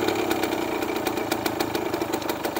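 A Kawasaki Ninja RR motorcycle engine idles close by, giving a steady, even run of rapid pulses with no talking.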